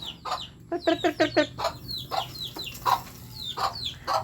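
Several chickens cluck close by in quick bursts, with short, choppy calls overlapping one another against a quiet background.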